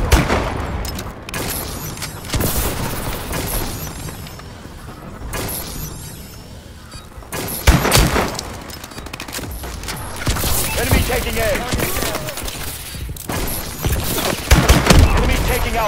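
Sustained heavy gunfire from an aerial Vulcan cannon in a multiplayer shooter game, rolling in long dense bursts with booming low rumble, broken by brief gaps, while game voice announcements sound over it.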